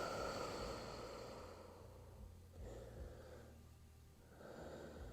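Slow, deep breathing focused into the back during a relaxation exercise, a long airy exhale followed by further soft breaths, close and quiet with no talking.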